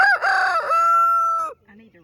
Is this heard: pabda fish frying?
no